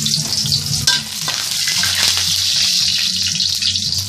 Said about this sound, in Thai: น้ำมันร้อนแล้วนะฮะ ใส่กระเทียมลงไปครับ